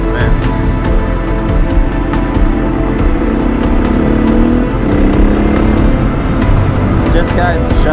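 Adventure motorcycle engine running steadily while riding on a solo trip, a continuous loud drone with slight rises in revs throughout.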